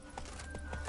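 Horse hooves clip-clopping at a trot in The Witcher 3, a few soft, evenly spaced steps under a steady background hum.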